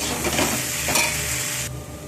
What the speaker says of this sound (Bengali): মশলা বেটে রাখা তিলটা আমি দিয়ে দিলাম দিয়ে আমি খানিক্ষণ নাড়াচাড়া করে ভাজা করে নেবো একটু